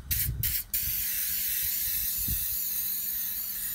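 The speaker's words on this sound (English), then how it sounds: "a bit of a spray, get it nice and wet." 3M adhesive remover is sprayed onto a vehicle wheel held vertically, a loud continuous aerosol hiss close to the microphone, briefly interrupted by short pauses at the start before holding steady.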